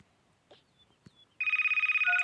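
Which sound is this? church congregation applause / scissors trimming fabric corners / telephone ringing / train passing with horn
telephone ringing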